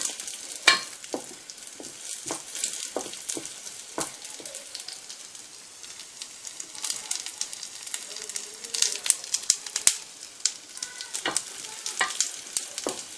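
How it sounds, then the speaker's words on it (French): Cashew nuts and raisins frying in a pan, a quiet crackle broken by sharp stirring scrapes and clicks that come at an irregular pace. "Nos noix de cajou commencent à dorer, donc on va rajouter maintenant nos raisins."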